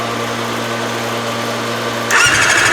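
A Yamaha Apex big turbo snowmobile engine tries to start: a steady electrical hum and whine, then a louder cranking, churning rattle cuts in near the end, close and alone.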